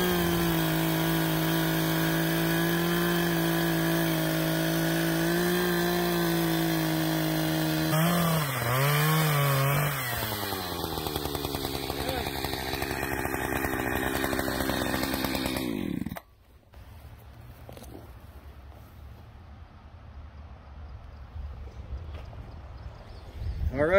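A chainsaw mills a log into a 10.5-inch beam, its engine loud and steady at close range for about sixteen seconds before it cuts off, leaving quieter outdoor background noise.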